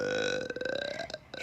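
A long, rumbling burp that rises in pitch and breaks into a stuttering, croaky rattle near its end, loud and close.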